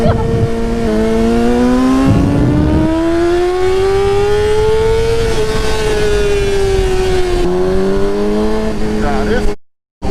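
Yamaha R6 sport motorcycle engine revving hard and steadily during a wheelie, a loud, sustained high-pitched whine that rises and falls through gear changes, close to the rider, then cuts out abruptly at the end.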